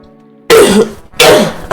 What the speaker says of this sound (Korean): 자꾸 기침해서 미안합니다